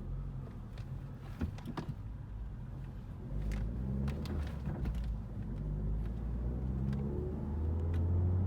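Peugeot RCZ 200 HP under full-throttle acceleration builds from a low rumble into a louder rising engine tone heard from inside the car, with road noise throughout.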